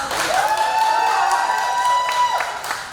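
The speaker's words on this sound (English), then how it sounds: "Give her a round of applause." A crowd at a pinup contest applauds steadily for a few seconds, clapping dense and fairly close, with a sustained whistle-like tone running through it.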